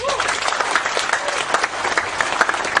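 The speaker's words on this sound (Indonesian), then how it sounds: "Tepuk tangan untuk Pak Nevi." An audience gives Pak Nevi a round of applause, loud and dense clapping that fills the whole moment, with faint voices mixed in under it.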